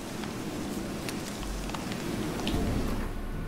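Steady rain hisses throughout in the video game The Witcher 3, a dense, even wash of patter with a low rumble underneath and no voices.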